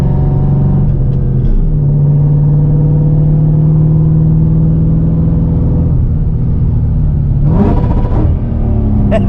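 Eaton supercharged 2V Mustang with a WOT box, its engine held at a steady high rev and then climbing in a loud rev toward the end, close and continuous.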